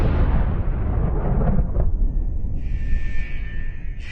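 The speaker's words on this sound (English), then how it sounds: "The structure has been compromised by an exterior explosion at the north end of the complex." A C4 explosion sound effect: a deep, rumbling blast that decays into a low roar, followed by a thin electronic tone, with no voices.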